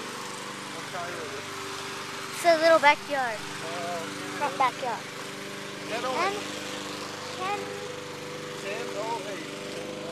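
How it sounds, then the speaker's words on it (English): A lawn mower drones steadily in the background of a residential yard, a constant moderate engine hum while people talk over it throughout. "Somebody's mowing the lawn."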